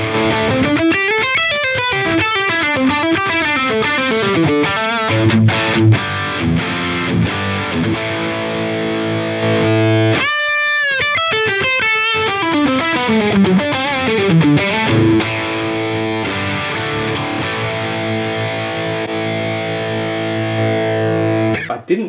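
Electric guitar played through a Friedman BE-OD amp model on a Line 6 Helix, loud and distorted, mixing chugging rhythm chords with sustained lead lines and a brief gap near the middle, with no talking.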